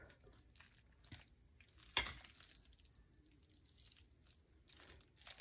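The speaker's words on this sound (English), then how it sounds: "We're just gonna stir." Shrimp pasta salad with mayonnaise stirred in a bowl, heard as soft, sparse scrapes and squelches with one sharp clink of the utensil, all very quiet and close.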